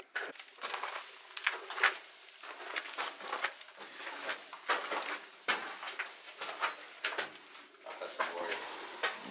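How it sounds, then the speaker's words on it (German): Inside an abandoned church, a pigeon gives repeated soft, throaty coos in rhythmic bursts at close range, with faint knocks and a voice here and there in the quiet space. "da sitzt eine Taube"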